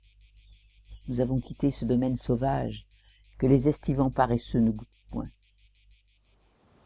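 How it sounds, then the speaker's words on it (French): Cicadas chirr in a steady, shrill midday chorus that runs unbroken beneath someone speaking close to the microphone. "dominée par les stridences des cigales lancées dans leur grand concert du milieu du jour"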